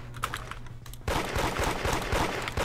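Rapid burst of gunfire from a shooting game set in Da Hood on Roblox, erupting loud and dense after a quiet second, with sharp repeated shots firing through a wall.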